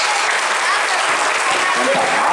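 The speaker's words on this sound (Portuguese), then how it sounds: "uma salva de palmas para esses atores maravilhosos" Audience in an Assembleia de Deus church applauds actors after a performance, steady dense clapping filling the whole stretch at close, even loudness.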